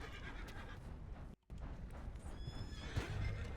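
A horse whinnies and snorts amid hoof clip-clop and ambient sounds in Red Dead Redemption 2, with a brief dropout partway through; fairly faint overall.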